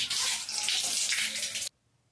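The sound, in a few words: running water while washing face and hands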